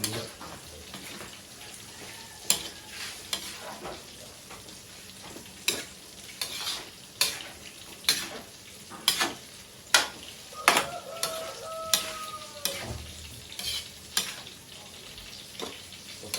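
Cabbage with carrots stirred and frying in a pan at a small eatery kitchen, a steady sizzle under repeated scraping strokes of a utensil, with a brief squeak of metal partway through.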